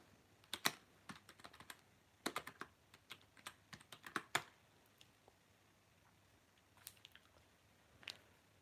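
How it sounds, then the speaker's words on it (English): Someone types on a computer keyboard nearby in quick clustered bursts of crisp clicks, then pauses before a few scattered final keystrokes. "There's my keyboard went."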